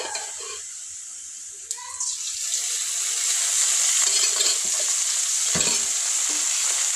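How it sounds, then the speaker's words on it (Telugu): Peanuts fry in a little oil on a low flame, giving a steady hissing sizzle that swells after the first seconds, with occasional stirring scrapes and clinks close by. "ఇది సిమ్లో అయితే వేయించుకోవాలి లేదంటే మాడిపోతుంది"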